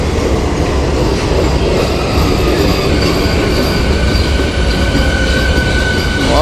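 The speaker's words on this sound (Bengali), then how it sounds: "এই দেখো আমাদের ট্রেন" A passenger train at Jhalda station in Purulia gives a steady, loud rail rumble with a faint thin wheel squeal running through it, close by, with no voices.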